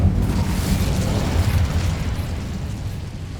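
A loud, roaring burst of flame from the Incendio fire spell in the Hogwarts Legacy video game, a dense rumbling blast that fills the whole moment.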